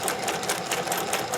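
Singer 411G sewing machine stitching at a slower speed, a steady quiet rapid clatter of the needle mechanism running continuously and alone.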